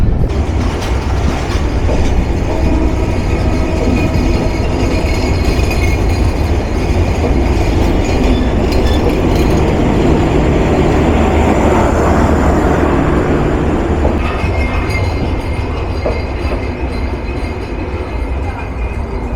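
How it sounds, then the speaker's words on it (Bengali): The Nilsagar Express pulls away from Ibrahimabad railway junction on a rainy day, its wheels and carriages rumbling loudly and continuously with clattering and faint squeals as it departs. "চলে যাচ্ছে উত্তরের রানী নীলসাগর"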